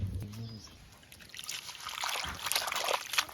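Ada thuntuni leaves are washed in water, with soft trickling, sloshing and splashing close by and a brief voice near the start.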